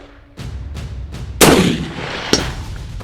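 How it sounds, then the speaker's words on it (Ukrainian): A loud, close rifle shot booms and echoes away, preceded by soft thumps and followed by a fainter distant crack of the bullet striking the target. "я сам побачив, що я зробив гарний постріл"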